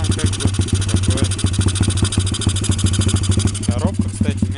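A motorcycle engine idling with its cover taken off, a loud, steady mid-pitched chug with even rapid pulses running throughout, close by.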